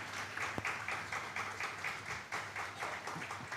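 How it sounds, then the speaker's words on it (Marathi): A church congregation claps loudly together, a dense, continuous burst of applause with a steady pulsing rhythm, filling the room throughout. "ज्याला कळालं त्यांनी जोरात वाजवलं टाळ्या"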